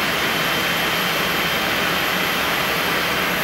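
A Learjet passes near a municipal airport, heard as a loud, steady broadband jet roar that holds evenly throughout without voices.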